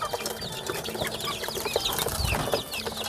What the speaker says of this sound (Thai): นี่คือผลผลิตที่ใดนะครับพี่น้อง เป็นลูกไก่ไข่นะครับ